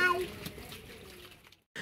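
Water poured into a tank being filled to about 15 cm for raising betta fry, a steady close splashing and gurgling that fades out near the end, with a faint voice in the background.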